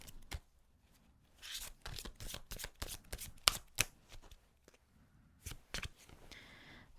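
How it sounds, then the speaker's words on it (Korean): Tarot cards are shuffled up close in a string of quick, crisp riffles and flicks, softer stretches between the sharper bursts, with no talking. "타로 카드로 2장 뽑아보도록 하겠습니다"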